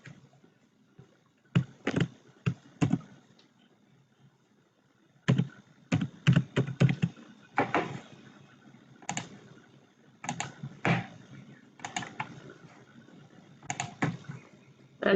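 Keyboard typing while building an HTML page: short bursts of quick keystrokes separated by pauses, with a longer quiet gap early on, close and clear with no talk.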